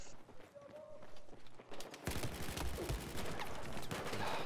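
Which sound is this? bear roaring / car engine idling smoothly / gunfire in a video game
gunfire in a video game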